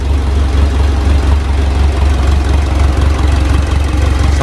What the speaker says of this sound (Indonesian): untuk mesinnya sudah hidup ya. Ini hidup awalnya.